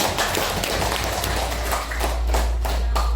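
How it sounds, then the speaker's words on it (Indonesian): Indonesian teachers clap their hands in a group, producing a close, loud patter of uneven claps over a deep low rumble. "tepuk tangan dulu untuk semuanya."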